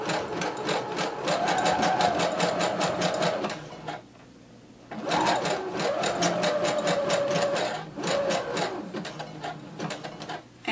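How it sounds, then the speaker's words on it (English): A sewing machine runs a zigzag stitch over elastic for a maxi skirt: steady rapid needle chatter in two long runs split by a short pause, close and loud, with a brief restart at the end. "Change your stitch to a zigzag. Lower your needle. Go ahead and begin sewing."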